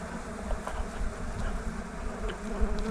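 Many honey bees buzz steadily and close by at a farm hive during an inspection, a dense, continuous hum with no voices.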